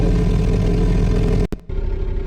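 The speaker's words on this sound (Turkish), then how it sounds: "Lan araba sesi geldi." Idling car engine in the driving game DriveX, a loud steady close hum that drops out briefly for a split second, then returns slightly quieter and carries on evenly.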